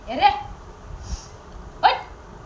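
Two short, sharp dog barks about a second and a half apart over a quiet background, fairly close by.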